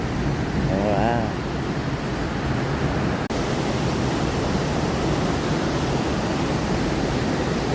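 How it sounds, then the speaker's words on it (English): A steady broad roar of water pouring over the falls at the old Uncas mill, loud and continuous, with a brief voice early on. "Waterfalls. Look at that."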